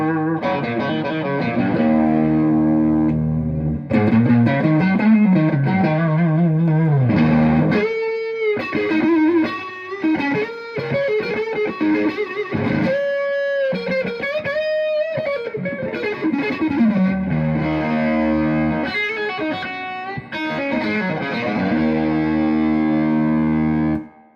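Distorted electric guitar played through a Milkman Sound The Amp 100 with its boost engaged, a continuous stretch of overdriven chords and lead lines with thick, saturated tone, loud and without talk.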